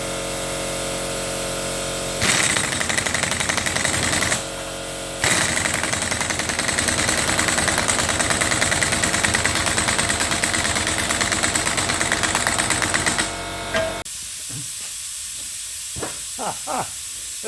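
Old Ingersoll Rand pneumatic impact wrench on a Caterpillar part during a power hacksaw rebuild, loud rattling bursts of about two and eleven seconds with a short gap, air leaking at the swivel, then a hissy quieter tail with a few clicks.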